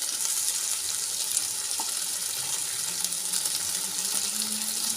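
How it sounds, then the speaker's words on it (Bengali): Bata fish frying in mustard oil after being turned to the other side makes a steady, close, hissing sizzle with light crackles throughout. "আমি উল্টে আর এক পাশ ভেজে নেব।"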